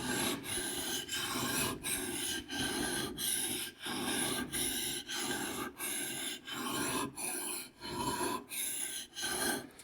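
A drawknife blade is sharpened with steady back-and-forth rasping strokes, about fifteen rhythmic scrapes close to the microphone, each separated by a short gap, with no speech.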